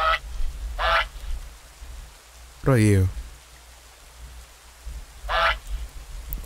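Quacking and honking from a goose character in a farming simulation game, several short honks at intervals, with someone talking over part of it.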